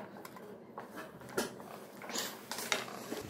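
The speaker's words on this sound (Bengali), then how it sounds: "এই ক্ল্যাম্পের এই স্ক্রুটা টাইট দিবেন যাতে নিডল বারটা এটাকে ভালো করে ক্যাচ করে ধরে রাখতে পারে" A small screwdriver turns the needle clamp screw on an overlock sewing machine, giving a few faint, close creaks and metallic ticks over about three seconds, with no talking.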